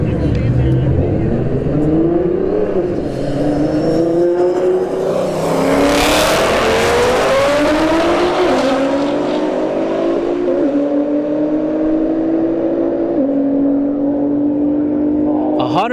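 A CCL Performance Nissan GTR drag racing down the strip at a Street Heat test-and-tune night, its engine climbing through repeated loud gear-by-gear revs and shifts as it launches and pulls away.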